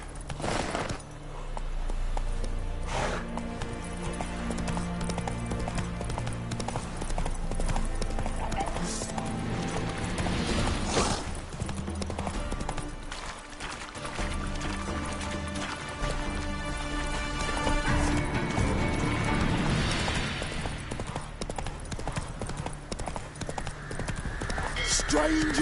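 Roach the horse trotting in The Witcher 3 video game, steady clip-clop of hooves running continuously under dense orchestral music, with a spoken voice near the start.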